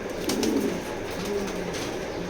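A racing pigeon hen coos softly in a loft, a low, close, steady murmur with a faint throaty warble and no voice over it.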